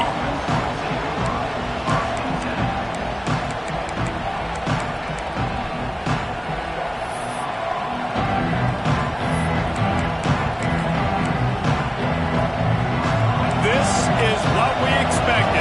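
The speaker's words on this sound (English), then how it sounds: "This crowd ready to make its presence known" Broad, steady roar of a large football stadium crowd at a Tennessee versus Georgia game, cheering and swelling louder near the end, with an announcer talking over the top.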